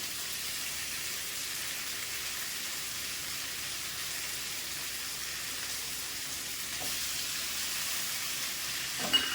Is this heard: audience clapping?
no